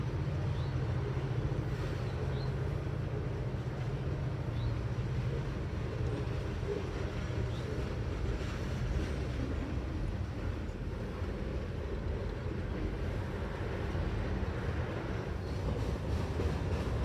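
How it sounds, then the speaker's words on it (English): A Blue Ridge Southern train rumbles steadily across a railroad crossing east of Canton, a continuous low heavy rolling roar with faint rail clatter, fairly close and sustained throughout. "the train is crossing a railroad crossing, which is just east of Canton."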